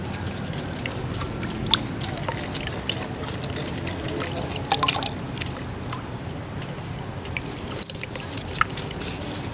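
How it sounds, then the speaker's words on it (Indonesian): Betel leaves are washed in water with continuous close splashing and trickling, broken by small sloshes and drips, at a steady moderate level. "kita cuci dulu"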